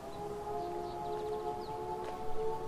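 A siren from the video game Life Is Strange: True Colors, warning of a detonation in a mine, sounds as a steady sustained wail held throughout, with faint higher chirps over it.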